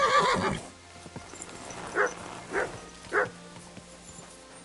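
Horse neighing in a video game: a loud burst at the start, then three short whinnies spaced about a second apart over a low ambient game hum.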